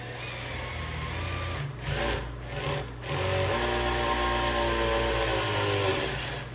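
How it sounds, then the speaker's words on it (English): A power drill driving an engine oil pump to prime it whirs steadily, briefly dipping and changing pitch twice before settling into a higher, continuous grinding whine. "I'm gonna prime the oil. So I'm gonna start this drill."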